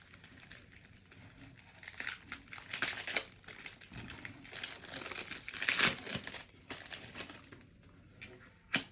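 The plastic packaging of a business card holder crinkles and tears at close range, with bursts of crumpling that rise and fall over several seconds and a sharp snap at the end, with a faint voice now and then.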